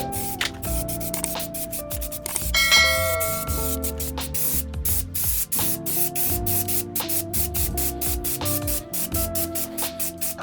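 A spray can or gun sprays paint and clear coat onto car hood vents for a Kia Stinger in short hissing bursts. Light clinks sound between the bursts, and a brief bright ringing tone comes partway through.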